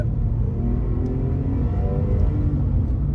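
Inside a Porsche 911 996 Carrera 4S on the road, the flat-six engine drones loud and close with a steady rising harmonic whine under acceleration, no voices over it.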